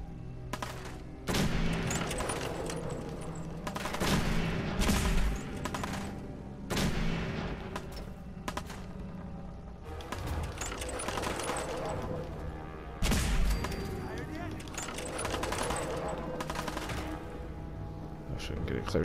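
Rapid gunfire bursts and booming shots from the video game Fallout 4 during a raider fight, dense and repeated across the whole stretch, with a voice talking over the combat.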